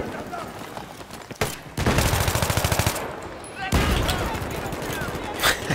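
AK rifle gunfire in Battlefield 3, loud rapid automatic bursts with evenly spaced rounds and a short pause midway, with voices talking over parts of the firing.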